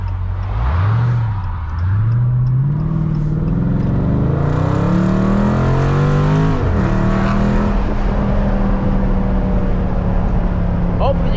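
A 2020 Dodge Challenger Scat Pack Widebody engine is driven with the windows down, first revving up through the gears with rising pitch and then settling into a loud, steady drone under wind noise.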